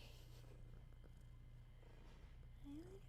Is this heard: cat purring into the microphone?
yes